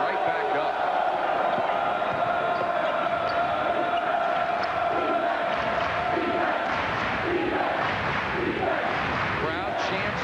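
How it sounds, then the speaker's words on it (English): Basketball arena crowd chanting "defense" during a 1995 Duke versus Maryland college game in the first half, a steady, loud roar of many voices that fills the whole stretch, with a commentator talking over it. "Crowd chants defense with 16:32 to go first half."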